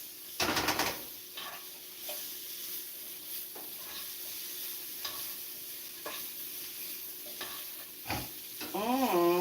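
Greens sizzle and fry in a pan for an Italian dish, stirred with repeated scraping strokes close by over a steady hiss, with a brief clatter near the end.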